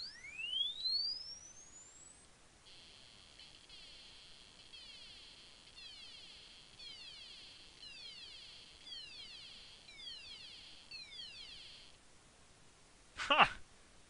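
An Arduino-driven piezo buzzer plays a run of thin, high electronic tones, a steady stepped series of short pitched beeps repeating for about ten seconds, heard alone without talk, ending with a brief sharp click.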